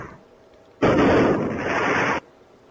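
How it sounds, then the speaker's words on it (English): Illegal fireworks going off at night in Santa Clarita, one loud sustained blast of crackling, roaring noise lasting over a second and then cutting off sharply, with quieter rumbling before it. "people in Santa Clarita fed up with illegal fireworks blasting off in the middle of the night"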